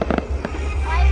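Fireworks bursting over Yen Bai to welcome the 2019 New Year, several sharp explosive pops in the first half over a rumbling, crowded night background, with people talking nearby.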